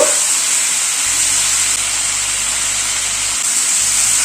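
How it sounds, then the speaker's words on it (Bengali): Vegetables with ginger paste frying in a pan while being stirred to sauté, giving a steady, close sizzle and hiss that holds at the same level throughout with no pauses. "আদা বাটাটা সবজিটার সাথে হালকা করে একটু কষিয়ে নেব।"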